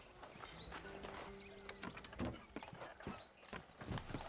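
Horse hooves clip-clopping on a dirt road as a horse-drawn carriage moves along in the Red Dead Redemption game, steady quiet rhythm with faint creaks and ambient noise.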